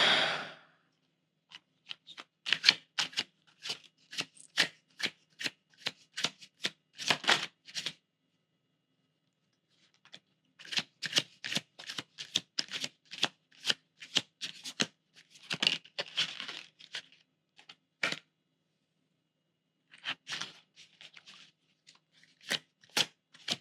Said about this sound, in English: so you might just be hearing shuffling.